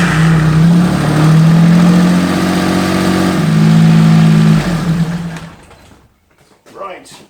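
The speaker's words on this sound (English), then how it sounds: "we'll start the engine up, let it run for maybe a couple of minutes" A 1996 Suzuki Alto engine runs loud and close, its note rising and falling as the revs change during an oil change. It cuts off near the end, leaving a short pause before a few brief sounds.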